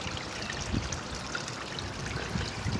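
Small garden pond waterfall trickling steadily into the water below, a continuous close splashing hiss with faint gurgles and no voices.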